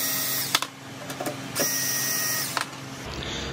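Power drill backing screws out of a Dell desktop PC case, a steady mechanical whir with a few sharp clicks and knocks, close and moderately loud, ending with a brief change in tone.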